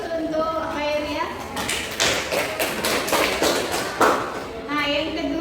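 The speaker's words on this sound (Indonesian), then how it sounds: "Kasih aplaus untuk Khairia." Classroom applause: a burst of scattered clapping lasting a few seconds in a practice-teaching class, with a teacher's voice before and after.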